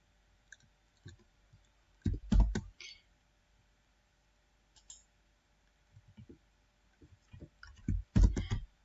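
Mouse clicks at a computer while working in AMOS statistical software: a few quiet, sharp clicks in scattered clusters, separated by near silence, with no talking.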